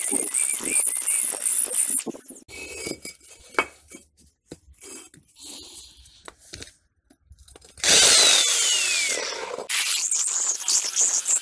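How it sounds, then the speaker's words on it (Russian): Loud bursts of grinding power drilling into brick with a homemade concrete bit, one at the start and a longer stretch near the end, separated by quieter clattering and handling noises. "Вот этот кирпич я сверлил одной шайбой"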